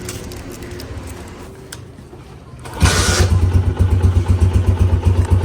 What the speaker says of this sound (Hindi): पहले किक पे स्टार्ट हुआ है बगैर रेस के, और फुल ठंडा बाइक है ये।